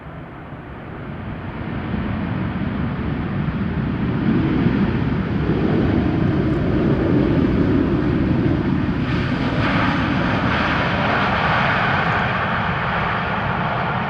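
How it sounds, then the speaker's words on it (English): A Boeing Dreamliner airliner arriving from Cartagena lands in a gusty crosswind at Amsterdam Schiphol after a storm, its engines a broad steady roar that swells and holds loud throughout, with wind buffeting the microphone. "This is a Dreamliner arriving from Cartagena."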